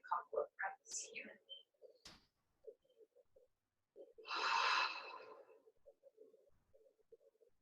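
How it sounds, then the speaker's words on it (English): One long, heavy breath rushes out midway through a live yoga class, loud and close, with soft murmurs and small sounds before and after. "And take a couple of breaths here."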